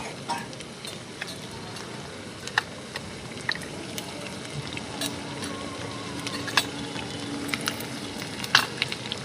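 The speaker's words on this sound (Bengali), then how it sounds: "দিয়ে দেব কেটে রাখা পেঁয়াজ কুচি" Chopped onion sizzles in a pan of hot oil after fried potatoes have been lifted out, a steady frying hiss sprinkled with sharp crackles and spits.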